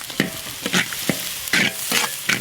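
Onion, garlic and ginger fry in peanut oil, with a steady close sizzle broken by several sharp scraping bursts as the pan is stirred, no voices.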